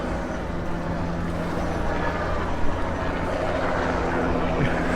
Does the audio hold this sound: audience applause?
no